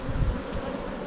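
Dense buzzing of many bees crowded on a beehive frame in an apiary, a continuous close hum without pauses, with a slight rise in intensity near the start.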